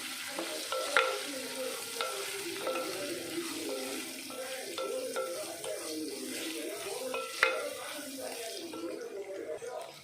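Chili powder and turmeric are stirred in a hot pan for mango pachadi, giving a steady sizzle with continuous scraping and stirring strokes up close.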